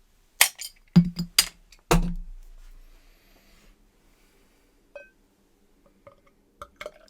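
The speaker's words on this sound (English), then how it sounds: "let's crack this open" A can of non-alcoholic wheat beer is cracked open and poured into a glass, with a few sharp pops and clinks up front, a brief fizzing pour, then sparse faint taps.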